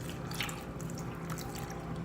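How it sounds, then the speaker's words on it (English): Water pours into a cupcake mould in a kitchen, a light continuous trickle and drip that stays steady for about two seconds, close by, with no talking. "Take your water and pour it into the cupcake mold."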